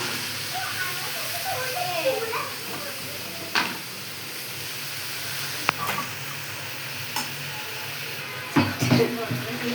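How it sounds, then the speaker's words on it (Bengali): Dried fish sizzling in hot oil with onion, garlic and green chili, a steady close frying hiss with occasional sharp crackles and clinks, with a voice speaking over parts of it. "পেঁয়াজ, রসুন, কাঁচামরিচ বাগার দিয়ে শুটকিটা দিয়ে দিছি"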